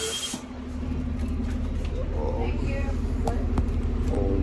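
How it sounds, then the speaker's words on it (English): A city bus pulls up at a night-time downtown Edmonton stop, its engine a steady low rumble close by with a brief air hiss at the start and faint street sounds over it, under light talk. "All right, guys, so my bus is here."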